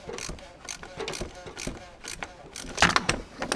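Wrench or ratchet tightening the oil filter housing on a 2015 Ford B-Max during a basic engine service, heard as close, irregular metallic clicks and clanks with brief pauses.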